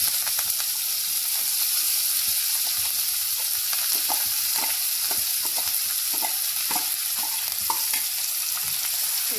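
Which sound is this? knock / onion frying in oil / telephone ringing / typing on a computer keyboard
onion frying in oil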